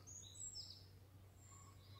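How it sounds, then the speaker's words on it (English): Birds sing along a countryside footpath, with a few high chirps and short calls scattered over a quiet outdoor background. They are faint and fairly distant, and there is no talking. "Lots of bird song as well."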